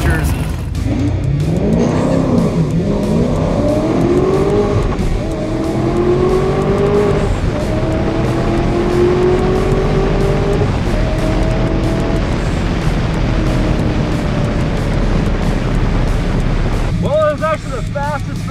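A Firebird drag car makes a run at a night drag-racing event in North Carolina, its engine roaring loud and near as it climbs through several rising gear pulls. Wind buffets the microphone throughout, and the note fades toward the end.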